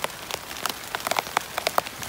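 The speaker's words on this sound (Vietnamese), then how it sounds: "Mưa các bạn." Rain patters steadily on surfaces and foliage in a forest trapping setting, scattered raindrops hitting close by in irregular taps over a continuous hiss, with no voices.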